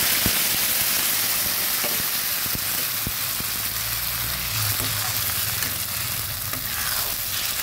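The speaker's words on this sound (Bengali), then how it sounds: "অনেকটা ভাজা হয়ে গেছে। এবার আস্তে লাউ পেস্টটা দিয়ে দিচ্ছি।" Bottle gourd paste frying in oil, a continuous close hiss and bubbling sizzle punctuated by occasional sharp ticks and stirring clicks.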